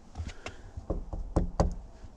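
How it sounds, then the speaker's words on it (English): Knocks on an old church door come as a series of sharp, close raps in uneven clusters, some louder than others, with no talk over them. "Knock on the door."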